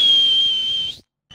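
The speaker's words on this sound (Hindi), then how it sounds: "मुझे सीटी बजानी होगी" A thief blows a whistle: one steady, piercing shrill tone held for about a second, then a brief second toot after a short pause.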